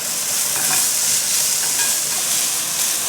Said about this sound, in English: Stir those up, get those nice and coated.